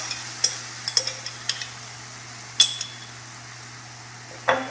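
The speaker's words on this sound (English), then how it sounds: "Put my mix on here. I'm gonna spread it out." Chaffle batter spread across a waffle maker: light scraping taps and small clinks of a utensil on the plates, close and intermittent, with a few sharper knocks and a faint steady hum underneath.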